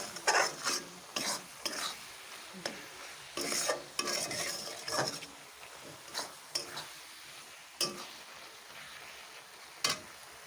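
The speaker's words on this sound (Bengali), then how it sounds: "এই দেখো দিয়ে দিয়েছি চিনি আর নারকেল একসাথে। এখন এটাকে আমি ভালো করে ভেজে নেব।" Sugar and grated coconut frying together in a pan for a homemade pitha filling, with a steady dry sizzle broken by repeated sharp scrapes and clacks of a spatula stirring against the metal, close and fairly loud.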